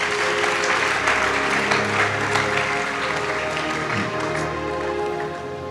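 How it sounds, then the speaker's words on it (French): A church congregation applauds loudly and steadily for Jesus, a dense wash of clapping from a large crowd that holds throughout and eases slightly at the end. "Acclame très fort pour Jésus."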